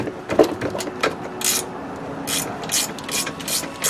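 A ratchet undoes a 12mm bolt on the rear sway bar of a 2017 Subaru Forester XT, giving a series of close, crisp clicking bursts in an uneven rhythm.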